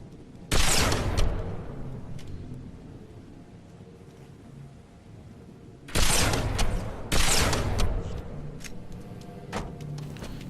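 Gunshots in Halo 3 ODST on the streets of Mombasa, several loud, sharp reports spaced apart, the first alone, then a cluster of two or three shots a few seconds later, each trailing off in echoing reverb.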